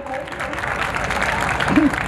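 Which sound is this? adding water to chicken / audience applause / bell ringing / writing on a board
audience applause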